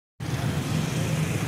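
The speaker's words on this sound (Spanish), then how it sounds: "la gente se mueve en bicicletas, en motos, en carros, en taxis, en transporte masivo" Evening city traffic in Siloé, Cali, with bicycles, motorbikes, cars and taxis passing, a steady rumbling roadway drone with a low engine hum that begins abruptly after a brief silence and holds steady.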